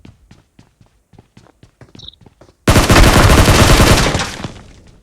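Gunfire in a team video game: a run of evenly spaced footsteps-like taps, then a sudden loud, dense burst of shooting or explosion that decays over the last seconds.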